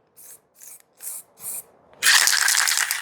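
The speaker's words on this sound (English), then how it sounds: "So you're spraying all around the whole thing, edges." A spray paint can first gives four short rattling bursts, then releases a loud continuous hiss of paint onto cardboard, close up with no talking.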